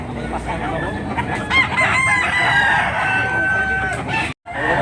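A rooster crows loudly nearby over a busy background of clucking fowl and faint chatter, the call stretching across most of the clip.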